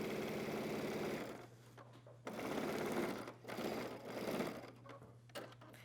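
A sewing machine stitches a rolled hem on a pant leg, its steady mechanical whir running in bursts with brief pauses between, close and fairly loud with no talking.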